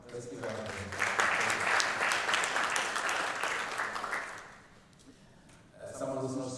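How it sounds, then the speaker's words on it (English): An audience at a financial inclusion symposium applauds in a sustained, fairly distant burst of clapping that fades after about four seconds, followed by a voice. "Let's give her a round of applause."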